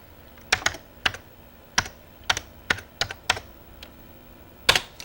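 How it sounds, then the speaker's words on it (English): Keystrokes on a computer keyboard as a short phrase is typed, about a dozen crisp clicks in quick irregular bursts with a pause before a final louder tap, close and clear against a quiet room. "And I'll just type in graphic text."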